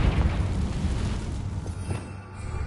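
The Confringo spell explodes in the video game Hogwarts Legacy with a deep booming blast up close, followed by a rumbling tail and a few fainter pops.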